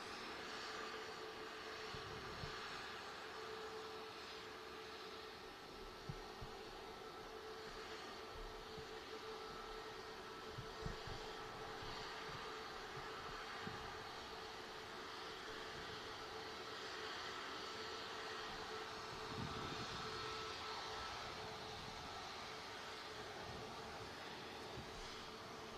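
A Ryanair jet airliner at Manchester Airport lining up and beginning its takeoff roll, a faint, distant, steady engine rumble with no talk.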